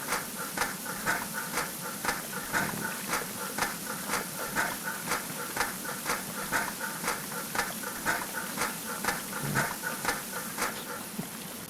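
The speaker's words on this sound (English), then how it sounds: "I'm gonna stop spraying for a little bit just because that sound is starting to give me a headache." A spray paint can hisses in a video game, repeated rhythmic bursts of airy hiss pulsing at a steady pace for several seconds, fairly faint and without talk.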